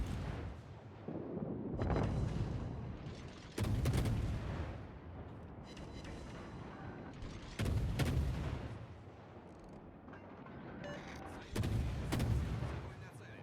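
Naval guns from the Neptune warship in World of Warships fire in heavy booming salvos, four loud blasts spaced a few seconds apart with rumbling tails between them.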